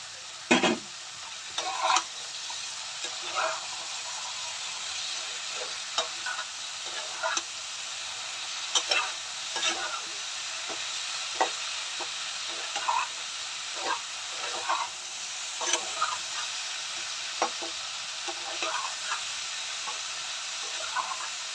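Bhola fish curry frying in a pan after cumin paste goes in, with a steady sizzling hiss and repeated clinks and scrapes of a spoon stirring, close and alone without talk.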